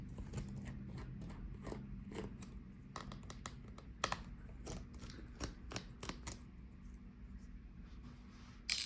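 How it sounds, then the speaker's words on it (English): Screws being removed from the motherboard of a Dell XPS 9510 laptop, faint close clicks and small scraping ticks in an irregular scattered series, with a louder click at the end. "So take out all the screws."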